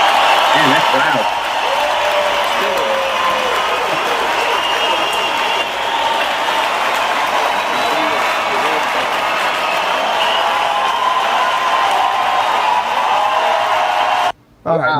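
Loud live crowd applause at a drone community gathering keeps up as a dense, steady wash of clapping with cheering for nearly the whole stretch, then cuts off abruptly near the end.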